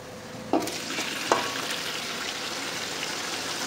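Marinated mutton is stirred into browned onions in a biryani pot. A constant loud sizzle runs throughout, with two sharp scraping clinks of the spoon early on.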